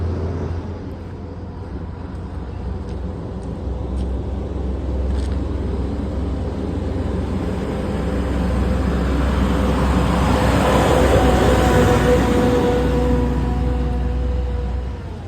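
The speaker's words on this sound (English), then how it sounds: "Sounds like we have a truck coming up the road." A truck rumbles up a residential road in Cherry Hills Village, its low engine drone swelling gradually louder as it nears, then easing slightly toward the end.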